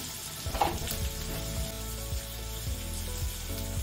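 Carrots sizzling and frying with softened onions in a pan, a steady crackling hiss with occasional scrapes of stirring, close and alone.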